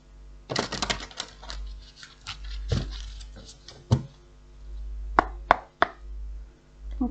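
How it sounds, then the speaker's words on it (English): Tarot cards are shuffled and riffled by hand, a run of quick papery snaps and flicks followed by a few sharp taps as the deck is squared, close and fairly quiet. "One more shuffle."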